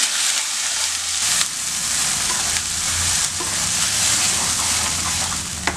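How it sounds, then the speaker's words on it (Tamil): Ground masala paste for paneer butter masala hits a hot pan and sizzles steadily, a dense continuous frying hiss with a few faint clinks and stirring scrapes throughout. "இந்த பேஸ்ட் அரைச்சி வச்ச பேஸ்ட்டு இதில் ஊற்றிடலாம்"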